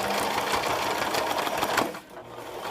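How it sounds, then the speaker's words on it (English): Home sewing machine stitching the front lining of a pocket cloth diaper, a loud steady run of rapid needle strokes that stops abruptly near the end, leaving a quieter hum. "here I am at the sewing machine"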